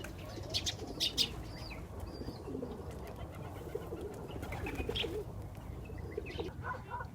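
Pigeons coo softly in a low, murmuring outdoor scene, with a few brief wing flaps and chirps mixed in and no one talking.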